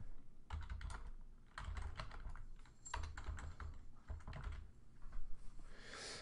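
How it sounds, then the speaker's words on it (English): Typing on a computer keyboard, quick irregular clicks in short bursts with small pauses between, close and fairly soft, with no talking. "let's just type in people with a birthday."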